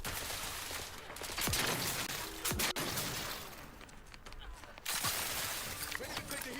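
A volley of gunfire rolls through a firefight in The Outer Worlds 2, with sharp cracks and impacts over a dense, noisy combat backdrop. A voice speaks during the exchange.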